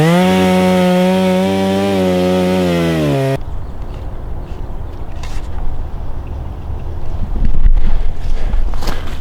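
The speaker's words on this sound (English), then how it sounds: "So I'm gonna take the chainsaw here and get to it." A chainsaw idles with a steady droning whine, then bites into wood on a frozen 15°F homestead, giving way to rough, noisy cutting and rustling close by.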